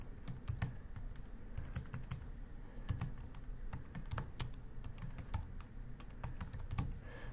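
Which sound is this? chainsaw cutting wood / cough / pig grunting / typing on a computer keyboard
typing on a computer keyboard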